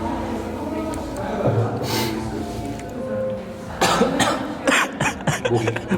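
Several coughs from two cyclists with sore throats after a hard ride up to Doseonsa break out amid talking, close by, with a burst of harsher coughing toward the end.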